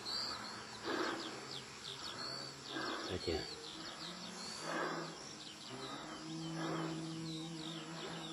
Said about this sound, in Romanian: Păsărelele cântă.